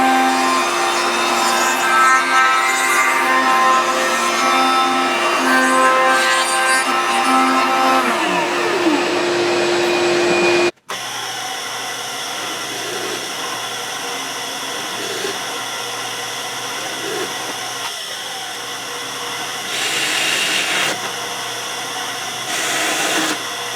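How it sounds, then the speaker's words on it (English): A table router trims a wooden body for a 1967 Gibson EB-0 bass, a loud, steady high-pitched whine with grinding and cutting noise, briefly cut off partway and then resumed. "we're going to do is trim this guy down to size on the table router"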